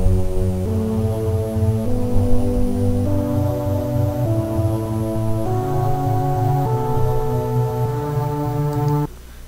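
Brassy trumpet section playing sustained chords over a low string bass line in a remix, steady and full for about nine seconds before cutting off abruptly.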